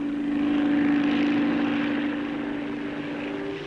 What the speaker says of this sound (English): Helicopters showing their paces included the Bristol Type 173.